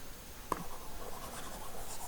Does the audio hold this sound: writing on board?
yes